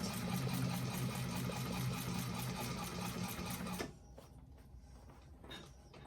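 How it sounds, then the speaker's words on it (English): A sewing machine stitches a bag seam in a steady, fast mechanical whir, close and loud, stopping abruptly partway through and leaving faint handling noises. "Making sure you're only getting what you are currently sewing right now and pulling that seam nice and tight."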